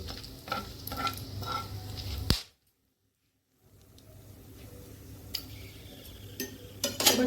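Whole garam masala stirred and frying in hot ghee, a steady close sizzle with scraping spoon strokes, broken by a sudden hush of about a second before the frying resumes more softly.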